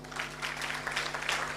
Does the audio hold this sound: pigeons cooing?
no